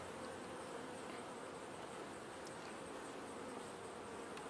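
Honeybees buzz steadily at an open hive with a small, weak colony, a dense close drone that holds evenly throughout with no talk.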